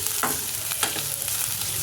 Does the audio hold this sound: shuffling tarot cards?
no